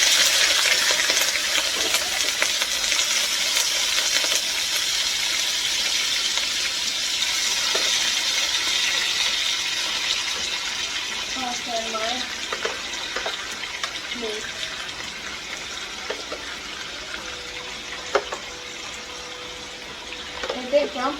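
Beef browning in a hot pan for stir-fry, not fully dried before cooking, gives a steady loud sizzle of broad hiss with scattered pops and clinks, and a voice talks faintly underneath.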